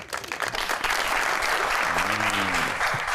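Studio audience applauding for Peshawar Zalmi cricket supporters on a Pakistani TV game show, steady dense clapping, with a voice briefly heard over it.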